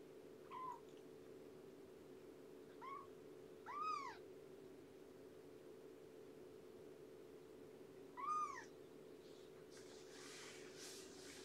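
A kitten gives several short, rising-and-falling meows, four distinct calls spaced across the stretch over a steady low hum, with faint rustling near the end.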